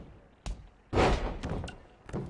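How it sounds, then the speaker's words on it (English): In WWE 2K20, a middle-rope missile drop kick lands with a heavy thudding slam, framed by a couple of lighter thumps before and after. No voices. "we got a middle rope missile drop kick"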